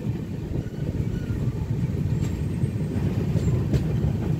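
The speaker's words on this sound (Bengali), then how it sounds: "আমাদের ট্রেন রিভার্স ব্যাক করে এখন যাচ্ছে উল্টো দিকে।" Kriya Yoga Express on the Howrah to Ranchi run, heard from inside as a steady low rumble of wheels and carriages rolling along the track, continuous and fairly loud with faint metallic ticks.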